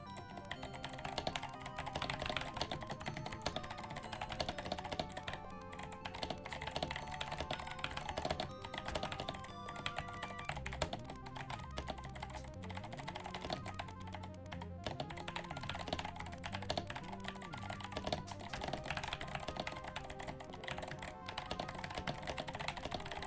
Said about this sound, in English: Loud keyboard percent.